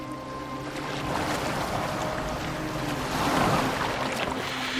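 A boat glides across open water in Assassin's Creed Valhalla, with a steady wash of waves and hull splashing under wind rush, loud and continuous, swelling slightly near the end.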